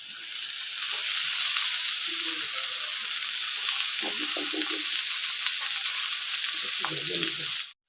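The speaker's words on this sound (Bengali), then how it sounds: "এটা এখন একটু ভেজে নিব।" Dondakolos greens fry in a hot pan for a shuktoni dish, giving a loud, steady sizzle with occasional stirring scrapes and brief background voice snippets.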